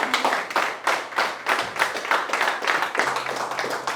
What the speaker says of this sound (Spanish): Dan un aplauso al Señor.